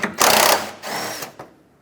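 A ratchet works on a 10mm bolt on the grille of a 2003-2021 Chevrolet Express 3500 van, producing two short, close bursts of fast mechanical clicking with a brief gap between them.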